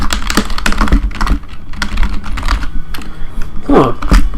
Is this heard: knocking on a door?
no